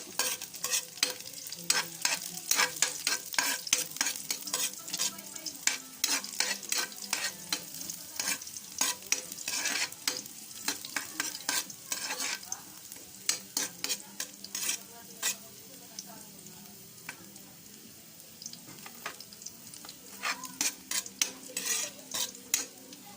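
Garlic sautéing in hot oil in a pan, a steady sizzle under constant scraping and clattering strokes of a spoon stirring close by.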